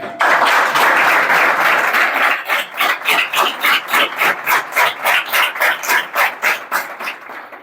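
Loud applause from an audience at a welcome ceremony for a new police recruit, starting as a dense wash of clapping and turning into steady, synchronized rhythmic claps before fading.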